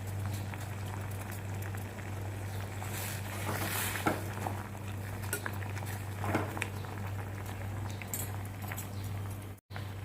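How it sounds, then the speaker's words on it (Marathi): Curry leaves boil in a pot of water with a steady, close bubbling and light patter over a low hum, continuing alone throughout. "अगोदर धुवून घेतला कढीपत्ता, चांगलं उकळू द्यायचं."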